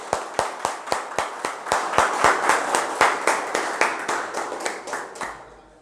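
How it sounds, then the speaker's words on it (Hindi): Crowd at a network marketing company event clapping in unison for honoured guests, loud sharp claps in a steady rhythm, about three per second, swelling midway and fading at the end. "जोरदार ताली इनके लिए होनी चाहिए, जोरदार ताली होनी चाहिए, बहुत को जोरदार ताली"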